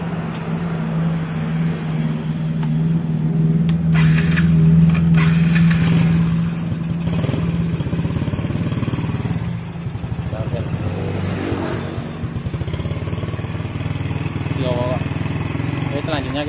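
Yamaha Jupiter Z motorcycle engine with a faulty, misfiring idle running close by, a steady low putter that swells and revs briefly before settling back to idle, with a voice talking over it.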